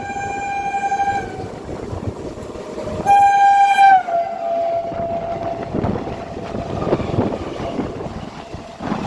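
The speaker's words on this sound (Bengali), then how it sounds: "ট্রেন এগিয়ে আসছে" A local passenger train on the Krishnanagar–Sealdah line approaches near Barrackpore, sounding its horn in two loud blasts over steady rumbling wheels and track noise, with no talking.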